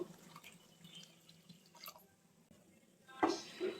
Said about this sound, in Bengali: মশলা কষানোর জন্য একটুখানি পানি দিয়ে দেবো